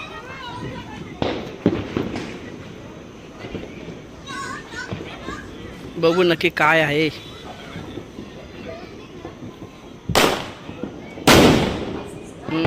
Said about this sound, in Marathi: सगळीकडे फटाके फुटतात बघा इकडे